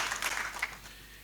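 A church congregation applauds in a short burst of dense, many-handed clapping that fades quickly, heard from a distance in a large room.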